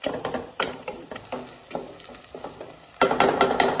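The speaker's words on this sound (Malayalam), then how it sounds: "പൊടികളുടെ പച്ചമണം മാറുന്ന വരെ ഒന്ന് ഇളക്കി കൊടുക്കാം" Spice powders are stirred in a pan for a Kerala-style crab curry, a rhythmic series of close scraping strokes of a spoon against the pan, getting louder and denser near the end, with no talk.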